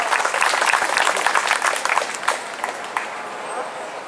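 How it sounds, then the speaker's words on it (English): An outdoor crowd at a Chicago public-speech event in Bughouse Square claps in a dense, steady burst that thins a little toward the end, with some crowd noise mixed in. "I guess that's my biggest round of applause so far"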